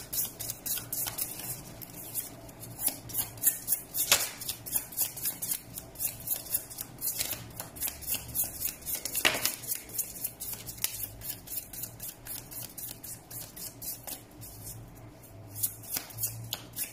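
Tarot cards are shuffled continuously by hand, a steady stream of quick riffling flutters and soft slaps at close range with no talking.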